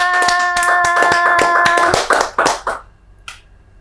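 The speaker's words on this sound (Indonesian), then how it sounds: "Tepuk tangan." A quick burst of sharp hand claps, close and loud, with a few scattered claps trailing off at the end.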